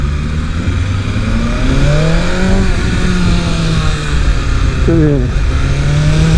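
A 2023 BMW S 1000 RR sport motorcycle accelerating on the street, its engine pitch climbing through the gears with a brief drop at a shift, loud and close, with one short spoken word.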